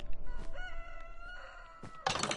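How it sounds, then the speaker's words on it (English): Rooster crowing in the Minecraft video game, a pixelated game-world farm bird giving a sustained, tonal cock-a-doodle-doo call at moderate distance, followed by a louder burst of noise near the end. "Look, there's roosters,"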